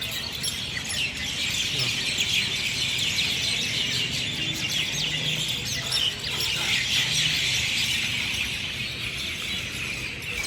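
Myna birds calling noisily at evening outdoors, a steady clamor of overlapping chirps and squawks continuing throughout at moderate loudness.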